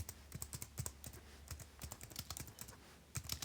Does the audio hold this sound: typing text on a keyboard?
yes